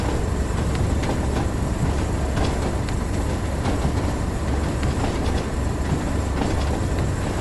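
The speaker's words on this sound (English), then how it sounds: "So we are now literally just letting it coast uphill using gravity in order to help slow us down." Tubeliner train coasting uphill on the Tees Valley Line in Train Sim World, giving a constant close rolling roar with occasional light clicks and faint wheel squeal, no talking over it.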